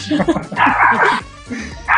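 A small dog in a family home yips and barks in a few quick, close, sharp bursts, mixed with whimpering, while people talk over it during a television quiz show visit.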